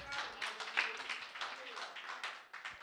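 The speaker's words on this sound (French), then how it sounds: "Oui, vous pouvez applaudir." A church audience breaks into applause, a steady patter of many hands with sharp individual claps, mixed under a speaking voice.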